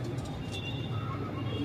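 Pigeons coo softly at close range in a brief low murmur, with background noise around them.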